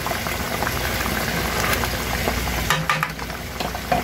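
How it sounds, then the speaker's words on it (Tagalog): Steady bubbling and sizzling of a pot boiling on a stove, continuous and close, with a few faint clinks near the end. "Kumukulo na siya."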